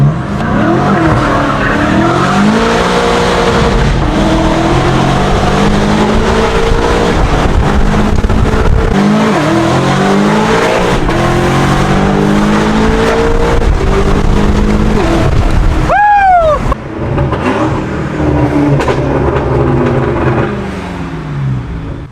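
A BMW F90 M5 fitted with a full titanium exhaust and free-flow downpipes roars loudly, engine note surging and falling through hard revs, with a sharp tyre squeal chirping out partway through.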